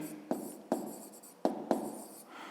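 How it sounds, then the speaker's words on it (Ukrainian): Pen writing by hand on paper, close and quiet: four distinct quick strokes with soft scratchy tails, spaced unevenly, with no talking. "Пишемо тоді відповідь"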